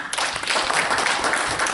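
Dense, steady audience applause fills the room, many hands clapping loudly and evenly throughout with no voices over it, at a gathering honouring young Africans who stayed in Africa.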